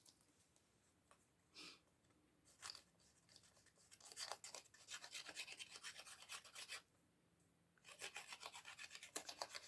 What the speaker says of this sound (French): Ça fait un peu de bruit du coup, hein, comme ça fait des trous, c'est normal.